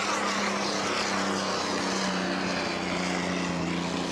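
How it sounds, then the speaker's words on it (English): A vintage hydroplane race boat with a stock Allison engine roars steadily at close range on the water at Guntersville Hydrofest, a loud sustained drone with no talk. "Brad, here comes the roar of the stock Allison."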